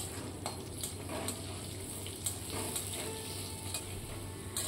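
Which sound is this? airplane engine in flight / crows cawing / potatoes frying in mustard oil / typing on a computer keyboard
potatoes frying in mustard oil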